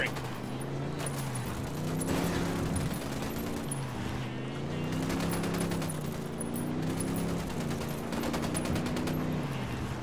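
Gunfire in Ghost Recon Wildlands bursts out in rapid automatic volleys, several sustained rattling stretches separated by short pauses, loud and close, with a low droning hum running beneath.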